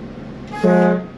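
A single loud, brassy air horn blast from a 2006 Itasca Ellipse diesel pusher motorhome sounds for about half a second, strong and close, with a sharp start and quick cutoff.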